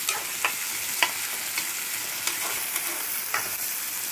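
Chicken curry ingredients frying in a hot pan as they are stirred: a steady close sizzle broken by sharp scrapes and clicks of the spoon against the pan every half second or so, with no talking.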